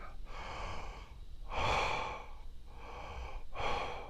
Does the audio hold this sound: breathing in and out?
yes